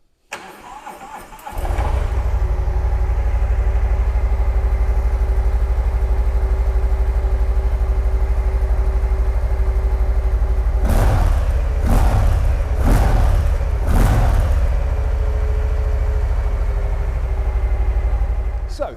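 A Harley-Davidson FXLRS Low Rider S motorcycle fires up after a second or two of quiet and settles into a loud, steady idle close by. Near the end come several quick throttle blips.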